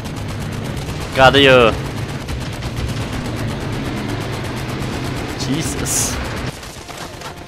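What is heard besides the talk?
gunfire from the VR video game Medal of Honor: Above and Beyond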